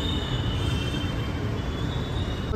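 Inside a Pune metro train, a steady, loud rumble of the moving carriage fills the space, with broad rolling wheel and track noise and a faint high whine, and no voices.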